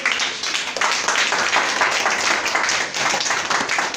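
An audience at a French stage hypnosis show claps for the hypnotized subjects, steady dense applause close up, with faint voices underneath.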